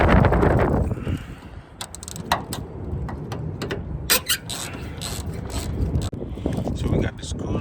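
A T50 socket works the tail light screws out of a Toyota Tundra, giving rapid, close ratcheting clicks in bursts over a rough, noisy background.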